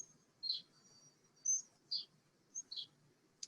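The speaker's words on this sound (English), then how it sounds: "Do I hear the bird in your background?" Bird chirping in the background, faint, sharp high chirps repeating irregularly about five times over a quiet room hush.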